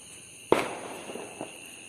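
A single sharp firecracker burst set off outdoors during a Narakachaturdashi festival, one loud close crack with a brief decaying tail and a fainter pop about a second later.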